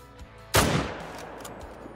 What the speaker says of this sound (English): Let's take the shot before this wind becomes an issue